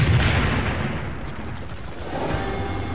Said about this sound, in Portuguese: Uns 5 segundos depois, a granada explode.